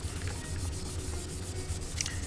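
Hand wet sanding of a Yamaha FZR motorcycle fairing during a restoration, a steady soft rubbing hiss of abrasive paper moving back and forth over the wet panel, close and continuous.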